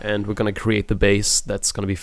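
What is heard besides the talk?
No everyday noise stands out behind the speech.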